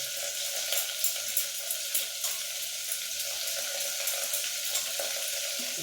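Ginger sautéing in a pan for vegetarian khichuri, a steady close sizzle with faint stirring scrapes throughout and no talking.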